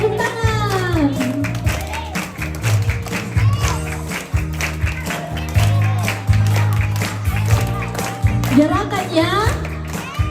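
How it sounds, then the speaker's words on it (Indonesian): A group claps hands together at a two-year-old's birthday gathering at a church, with rhythmic clapping mixed among children's voices and adults talking and singing. "Oke, semuanya 1, 2, 3. Tepuk tangan."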